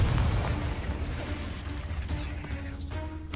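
A Confringo blasting spell going off in Hogwarts Legacy near a cave entrance, heard as a dense low rumbling boom that opens loud and then settles into a sustained roar with crackling debris.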